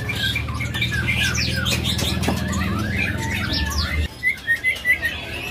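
A caged magpie-robin (murai) sings a fast, varied run of chirps and squawky whistles over a steady low hum, then a few louder isolated calls, close and clear with no talk.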